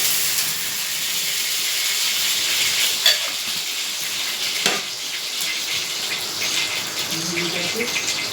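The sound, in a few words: oil sizzling on a tawa griddle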